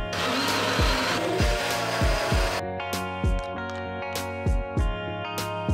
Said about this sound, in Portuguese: É tipo um mini liquidificador para apenas uma porçãozinha de um shake